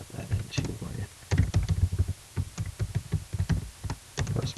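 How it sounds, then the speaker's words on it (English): Typing on a computer keyboard, a steady run of quick, light key taps in uneven bursts with short pauses, close by and fairly clear, with no talking over it. "Let me type that in for you."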